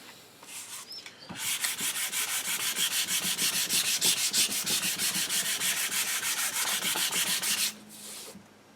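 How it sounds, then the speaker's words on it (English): Hand sanding the wooden stock of an HW30 air rifle, a steady run of rapid rhythmic back-and-forth scratchy strokes, close and fairly loud, with no talking. "This might not be the last sanding."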